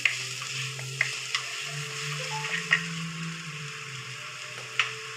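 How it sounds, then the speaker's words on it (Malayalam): Squid is stirred in a hot frying pan, with a steady close sizzle and occasional spoon clacks against the pan. "ഇനി എല്ലാം കൂടി നന്നായിട്ട് ഇളക്കി കൊടുക്കാം"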